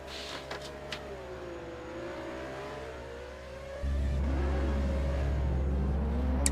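Lancia race car on a time attack lap at a racing circuit, its engine revving and shifting in rising and falling pitch, moderately distant and then suddenly louder and closer.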